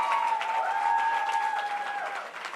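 Steady crowd applause fills a Democratic Senate primary victory event in North Carolina, dense and even throughout, with a faint ringing tone riding above the clapping.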